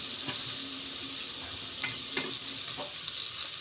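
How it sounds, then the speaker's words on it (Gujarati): Stuffed brinjals are stirred as they fry in a pan. A low, steady sizzle sits under a few soft scraping clinks from the spoon, all close and fairly quiet, with no voices. "આપણે રીંગણાને આ રીતે હલાવી લઈશું."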